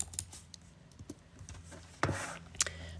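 Someone types a few quick, soft clicks on a computer keyboard, then a brief burst of louder keystrokes, in a quiet room.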